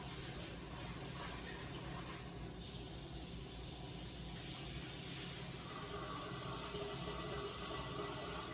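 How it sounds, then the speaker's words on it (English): Water runs steadily from a kitchen sink tap as rice is rinsed, a constant hissing spray whose tone shifts partway through as the flow changes. "I'm gonna come over to the kitchen sink and I'm gonna rinse this off"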